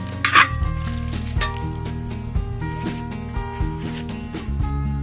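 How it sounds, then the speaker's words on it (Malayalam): Pieces of liver frying in hot oil in a pan for a pepper fry, stirred with a spoon: a loud close sizzle with repeated scraping strokes against the pan and a steady hum underneath, no talking. "ഇനി ഇതിലേക്ക് ബാക്കിയുള്ള 50 മില്ലി ഓയിലിനെ കൂടെ ചേർത്ത് കൊടുക്കാം"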